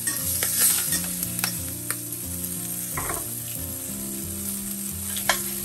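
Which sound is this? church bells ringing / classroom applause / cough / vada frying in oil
vada frying in oil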